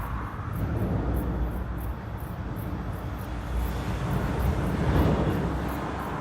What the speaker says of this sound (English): That's got to be a truck.